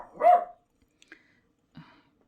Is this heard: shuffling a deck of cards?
no